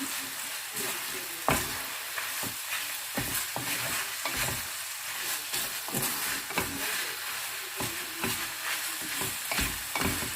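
Beef stir fry sizzles steadily in a pan while a utensil scrapes and clacks against it in quick, repeated strokes. The sound is close and moderately quiet, with no talking.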